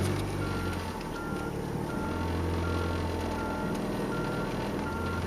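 A snow plow truck reverses in a snowy Michigan parking lot, its steady, repeating backup beeps sounding from some distance over a constant low engine rumble.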